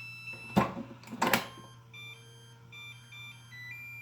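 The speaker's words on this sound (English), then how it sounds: "until you hear that chime letting you know it's fully charged" Makita LXT lithium-ion battery charger sounding a short electronic chime as the battery slides off: two bright bursts near the start, then a series of faint, thin tonal beeps continuing alone in a quiet room.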